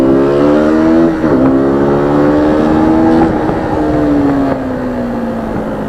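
A KTM Duke 200 motorcycle engine drones loud and close while riding, its pitch climbing, dropping briefly at a shift, climbing again, then easing off toward the end.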